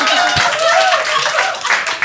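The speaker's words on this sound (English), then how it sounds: "Big round of applause for Amrish." A comedy audience claps and applauds after an Amrish Puri impression, a brief burst of hand claps mixed with voices, with one sharp clap standing out early.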